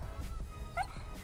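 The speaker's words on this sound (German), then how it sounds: "Der Hund ist auch mit dabei." A dog gives a single short, faint yip-like bark during work on a VW T4 Multivan conversion, the sound brief and set against quiet low background noise.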